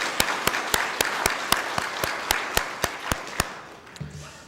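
A single person's hand claps ring out in a steady rhythm inside a church sanctuary during a worship service, about a dozen sharp, fairly close claps that stop, followed by a faint murmur.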